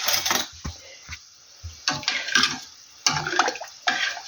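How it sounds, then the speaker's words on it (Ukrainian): Rice being rinsed in cold water in a home kitchen, splashing and pouring bursts with grains and water sloshing against a pot, close and fairly loud, broken by short pauses. "І промию його в холодній воді. Так залью холодною водою."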